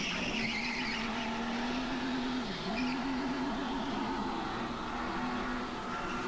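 A race car at full throttle during a SuperLeague Edison Supercharged heat on a racing course, its engine holding a loud, continuous whine that dips and climbs slightly with a faint squeal of tires beneath.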